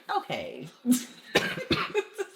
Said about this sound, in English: Had to do a little cough on that one.